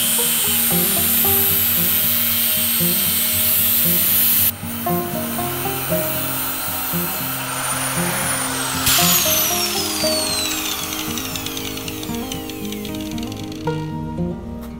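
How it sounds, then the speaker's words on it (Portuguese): Angle grinder cutting metal on a workbench, a loud sustained high whine with shifting tones and harsh grinding throughout. "vou fazer o corte com a esmerilhadeira"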